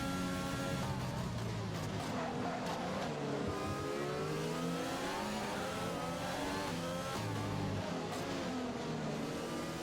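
F1 2020 race cars in the video game screaming around the track on the run into turn 12 at the United States GP, several high revving engines rising and shifting gear continuously, loud and close with faint commentary underneath.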